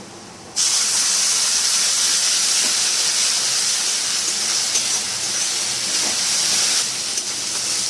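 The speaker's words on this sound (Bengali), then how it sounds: "টমেটো বাটাটা দিয়ে দেবো" Ground tomato paste hits hot oil with fried onions in a pan, bursting into a loud, steady sizzle that runs without a break, close and alone after a brief quiet start.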